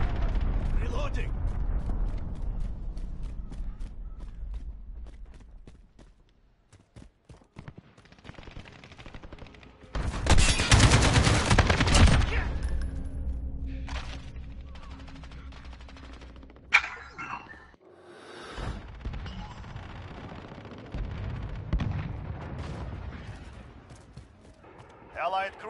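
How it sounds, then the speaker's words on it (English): A Battlefield match on PS4 with an enemy cruise missile strike and gunfire: scattered automatic bursts, then a sudden massive roaring impact that rumbles for seconds before firing resumes, with in-game voice callouts over parts of it. "Enemy cruise missile, take cover."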